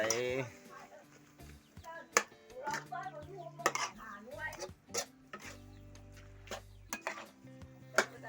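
Eel and mushrooms being stir-fried in a pan, with scattered clinks and scrapes of a utensil against metal and a steady low sizzle underneath. Someone talks throughout.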